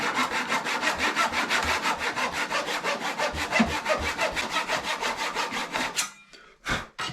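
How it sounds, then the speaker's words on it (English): A hand saw cuts through a wooden guitar fretboard in steady, fast back-and-forth strokes, close and clear, then stops with a couple of final scraping pulls. "I've been saying that I need to sharpen this saw"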